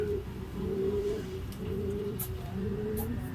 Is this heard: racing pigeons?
yes